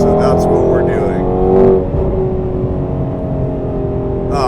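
Speedkore carbon fiber Shelby GT350R with a flat plane crank engine revving, a loud, close, rumbling engine note that swells briefly then settles into a steady idle-like drone.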